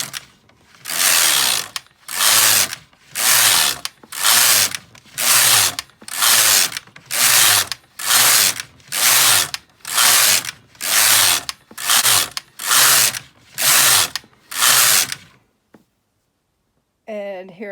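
A Brother KX 350 or LK 150 mid-gauge knitting machine carriage sweeps back and forth across the needle bed in fourteen loud, even, whirring-clacking passes about once a second, then stops into near silence.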